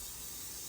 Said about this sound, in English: I've got a butter flavored non-stick cooking spray.